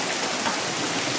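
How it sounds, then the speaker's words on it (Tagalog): Heavy rain pours in a steady, dense hiss outdoors near a hillside mansion, continuous and even throughout with no voices. "Malakas po yung ulan"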